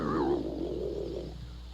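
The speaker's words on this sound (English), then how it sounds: "That's the sound of the saucer we heard on the tape." A flying saucer sound effect from an old film tape, a low wavering warble that bends in pitch and slowly fades over under two seconds, with a steady hum underneath.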